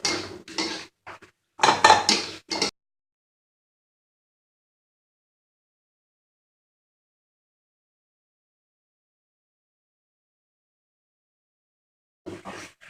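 Anchovies stirred in a pan, with clattering scrapes and knocks of the utensil against the cookware in short bursts at the start, then a long silence and a brief return of clatter at the end.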